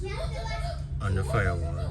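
Children play somewhere in the background outside, faint and distant beneath someone talking close up in a garage about a race car's brake setup.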